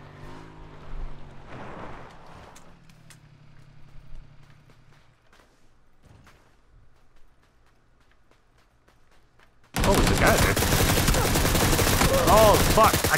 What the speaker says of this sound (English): I can't hit my shots